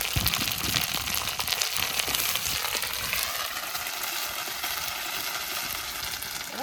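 Onion, ginger and cumin-coriander paste frying in hot oil for a wedding-style katla fish curry, giving a loud, dense, continuous crackling sizzle close up, with no voices over it.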